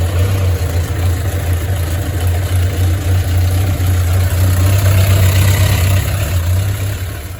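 A 1993 Suzuki GSX600F motorcycle engine idles steadily and loudly up close with a constant low throb and no revving.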